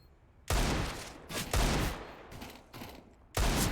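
Rifle taps ring out during a Counter-Strike match: four sharp single shots spaced unevenly, with fainter shots in between, loud and close, and no voices over them.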